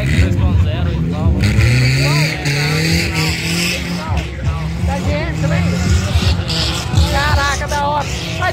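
A Chevette fitted with a 2.0 engine, used for doing donuts, roars loudly and continuously with rising and falling revs, tyre squeal and engine scream throughout, with people talking over it.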